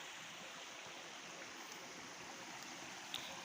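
Fast-flowing floodwater rushing along a street near a dam area after torrential rain, a steady broadband roar with no speech, constant and fairly close.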